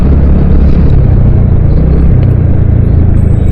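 Motorbike riding near the Dharmasthala temple main entrance, a steady close engine rumble with wind buffeting, continuous and loud with no talk.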